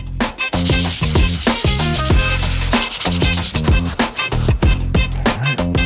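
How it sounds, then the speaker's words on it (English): A medium bristle brush scrubs a sneaker insole from a pair of New Balance shoes, making rapid, rhythmic back-and-forth rubbing strokes that carry on loudly and steadily without a break. "Grab this insole. It's really not that dirty, but while we're at it and cleaning up the sneaker, let's give it a good scrub."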